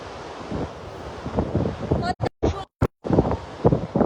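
Strong outdoor wind buffets the microphone in heavy gusts, rumbling loudly with several abrupt dropouts midway, while a voice talks through it.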